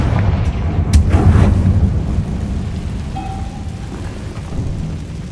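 A Confringo fire-blast spell from Hogwarts Legacy erupts in a loud, crackling boom that then rolls into a rumbling, rain-like decay, with a faint tonal whistle following.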